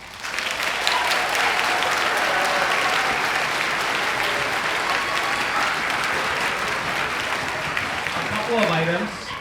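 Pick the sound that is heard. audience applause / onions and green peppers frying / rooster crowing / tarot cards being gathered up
audience applause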